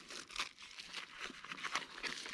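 Emergency blanket crinkling inside the zipper pouch of a chest rig: soft, continuous rustling and crinkling with small bursts, close and fairly quiet, with no talk.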